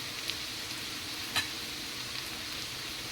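Onions frying in a kadai with ginger paste just added, for kadai chicken fry; a soft, even sizzle runs throughout with a single brief stir or scrape partway through.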